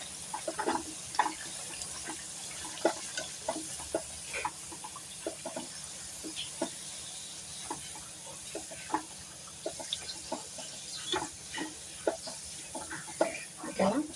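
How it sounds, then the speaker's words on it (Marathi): Bhatura dough frying in hot oil for chole bhature, a steady soft crackle with repeated short bubbling pops and stirring clinks close by. "आपण अजून एक तळून घेऊया"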